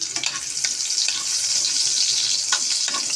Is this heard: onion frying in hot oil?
yes